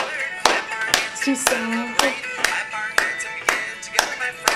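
Children clapping their hands together at a library birthday story time, a string of sharp, roughly evenly spaced claps about every half second, with a voice briefly heard between them.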